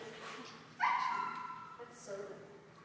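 At a dog training session, a dog lets out one sharp bark that trails into a drawn-out whine, followed by a fainter yelp, close by against quiet room noise.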